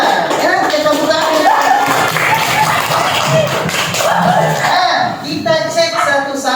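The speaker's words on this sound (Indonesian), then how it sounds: "Ya, kita tepuk tangan" Students in a classroom clap together, a busy patter of hands mixed with crowd murmur and a little laughter, with talking running over the top of it.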